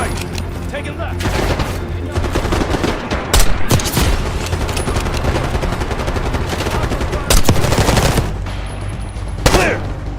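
Rapid bursts of automatic rifle and machine-gun fire from a Call of Duty: Black Ops 6 firefight, loud and sustained for the whole stretch with heavier blasts punching through, while shouted voices come in over the shooting.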